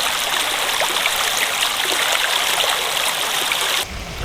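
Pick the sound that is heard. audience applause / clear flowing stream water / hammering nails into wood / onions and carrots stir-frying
clear flowing stream water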